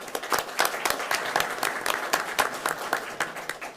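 An audience at a school board meeting applauds an elementary school student, a steady crowd of overlapping claps with a few louder ones standing out, held at an even level throughout.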